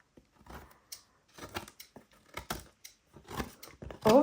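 Scissors snip off stray paper edges while trimming the pages of a bird book being made into a junk journal, a string of short, close cutting crunches in separate bursts with a louder snip at the end.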